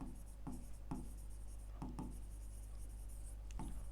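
A pen writes accounting entries: short scratchy strokes come in small clusters, close and quiet, over a steady low electrical hum, with no one speaking.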